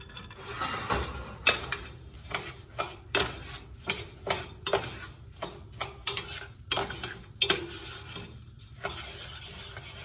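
Rice toasting and being stirred in a pan before cooking: repeated scraping strokes of a utensil against the pan in an irregular rhythm, with a light sizzle underneath, close and fairly loud.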